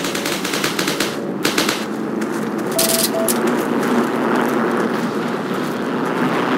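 Continuous gunfire from the World War II online shooter Heroes & Generals, with dense machine-gun bursts and scattered shots layered over a steady battlefield din, with no talk.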